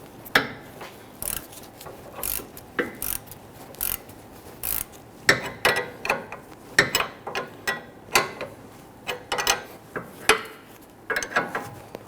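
A ratchet runs a nut onto the lower stud of a front sway bar link on a 2010-2019 Ford Taurus, giving close, sharp clicking in irregular bursts of quick strokes with short pauses.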